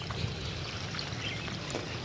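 Irrigation water runs through a farm field, making a close, continuous gurgle and trickle of flowing water with no voices.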